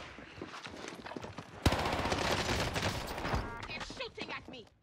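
Rapid gunfire fills a Warzone match on Rebirth Island, with loud dense bursts of shots in the middle and voices talking over the action before and after.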